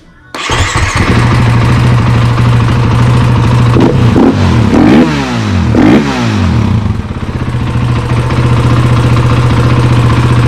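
A KTM 500 EXC dirt bike, just repaired for bogging under throttle, roars loud and close, idling with a rough clatter before a few quick throttle blips rise and fall, then settling back to a steady idle.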